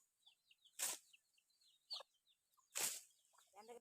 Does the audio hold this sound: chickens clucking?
yes